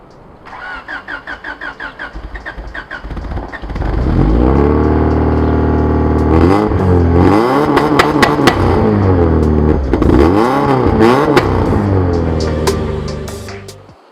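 A Honda Prelude with an F20A4 engine cranks and starts, then revs repeatedly in loud rising and falling sweeps close by, settling briefly between blips before dying down, with no talking.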